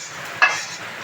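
A spoon stirs shyama rice and fried vegetables in a cooking pot, giving one short scraping stir over a quiet background.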